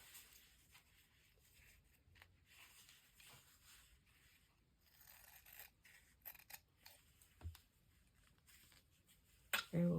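Scissors trimming paper for a junk journal cover: quiet, scattered snips and rustles at close range, with a louder burst of handling at the end.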